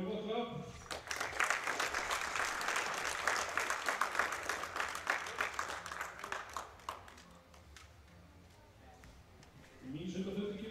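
Crowd applause at the Icelandic deadlift championship, a mass of claps that swells and holds loud for several seconds, then thins and fades, with talk at the start and end.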